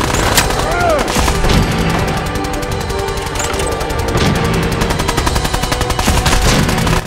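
Gunfire in a Fallout game, loud and close: a few single shots early, then dense rapid bursts of automatic fire rattling on steadily toward the end amid game noise.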